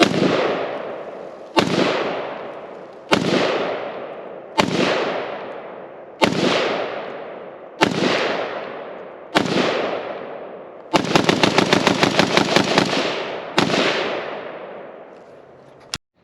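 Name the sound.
gunfire from LMT Estonian R20 rifle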